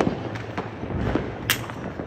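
Diwali firecrackers going off at home among friends, including Lal Bamb crackers, heard as a dense crackling wash with several sharper pops and bangs scattered through two seconds, fairly distant and with no talking.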